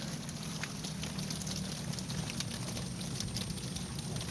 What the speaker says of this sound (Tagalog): pampagulo lang yung ulan na to